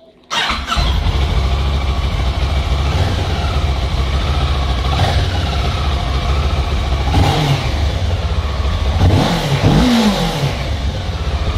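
A Kawasaki ER6N motorcycle engine starts with a sharp crank, settles into a steady loud idle, then revs up and down a few times.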